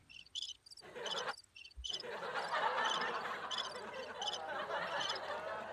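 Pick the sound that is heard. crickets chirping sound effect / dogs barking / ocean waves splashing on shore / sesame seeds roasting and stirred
crickets chirping sound effect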